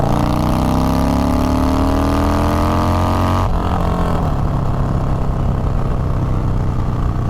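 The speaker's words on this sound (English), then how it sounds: "She definitely gets up and moves with that 950cc engine in her." A 950cc bobber motorcycle engine climbs in a loud, rising rev, then drops abruptly and rumbles on at a lower, rough pitch, close and alone without talk.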